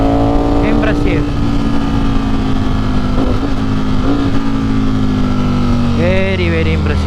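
A Ducati Streetfighter hyper naked motorcycle revs through quick-shifter upshifts and auto-blip downshifts, the engine note rising and dropping in bursts while a rider talks over it.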